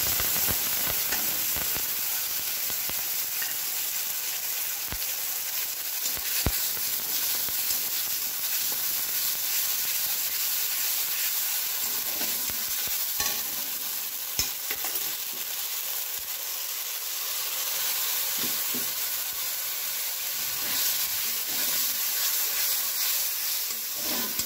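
Spices sizzle and fry in a hot pan for kande ki sabji (onion curry), a steady broadband crackle held for the whole stretch with occasional stirring clinks and no talk.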